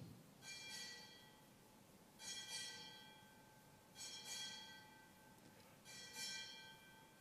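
Ship's bell rung in paired strikes at a Navy change of office ceremony, four ringing double clangs spaced evenly across the stretch, each leaving a bright harmonic decay in a quiet hall.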